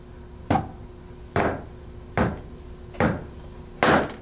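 Hammer blows driving nails into wood while a grandfather and grandsons build a birdhouse: five sharp, evenly spaced strikes about a second apart, close and clear against a quiet background.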